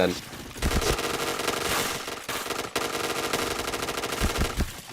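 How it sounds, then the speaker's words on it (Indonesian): Rapid automatic gunfire from an online shooter video game, bursts of machine-gun fire running nearly continuously with a short gap midway, loud and close, with a voice speaking over the shots. "Sampai peluru gua habis nggak ada kena satu pun"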